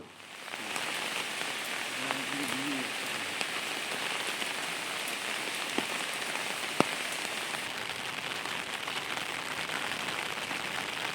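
Heavy rain pours steadily on the hills of Daringbadi in Odisha, making a dense, constant hiss of drops hitting surfaces with no voices.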